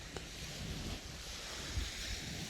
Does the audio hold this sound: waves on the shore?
yes